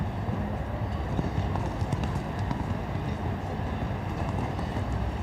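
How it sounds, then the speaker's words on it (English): A show jumping horse gallops on the course with rhythmic hoofbeats, a steady fast clip-clop carried over a continuous arena background at moderate loudness. "Look at the gallop of this horse."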